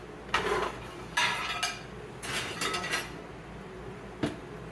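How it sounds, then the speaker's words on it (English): Plates being slid into a kitchen oven, a few clattering clinks and scrapes of crockery against metal racks at close range, spaced out with quiet gaps between them. "I'm just going to pop my plates in the oven for just a minute."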